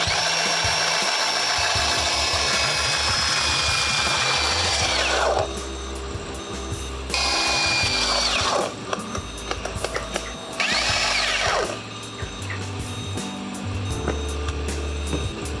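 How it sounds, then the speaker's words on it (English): Belt sander flattening repair work on a boat hull on a cold day, a loud continuous whirring drone with shifts in pitch as pressure changes and brief lulls, close up and steady throughout. "today I'm gonna take the belt sander and sand all this stuff as flat as I can get it"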